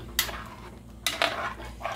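A spoon stirs a roux in a pot for Cajun chicken fricassee gravy, making a few close, sharp scrapes and clinks against the metal, with short quiet gaps between strokes.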